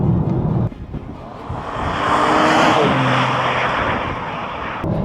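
A BMW M2 accelerates hard through quick upshifts from a conventional, non-dual-clutch gearbox. The loud engine roar swells and climbs over several seconds, with no one talking.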